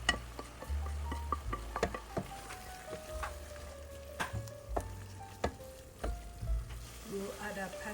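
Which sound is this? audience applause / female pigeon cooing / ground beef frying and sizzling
ground beef frying and sizzling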